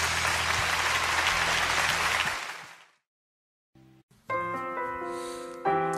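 Loud applause from a church auditorium congregation during a Catholic worship service, a dense wash of clapping that fades out after about two seconds, followed by silence and then instrumental music.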